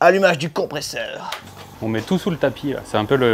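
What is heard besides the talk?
No everyday noise stands out behind the speech.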